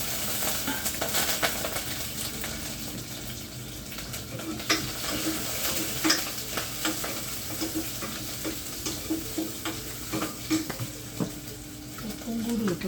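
Onions, curry leaves and green chillies fry with salt in a pan for a home-cooked lunch, giving a steady sizzle broken by scraping stirs and clinks of a spoon against the pot. The sizzle is close and moderately loud throughout.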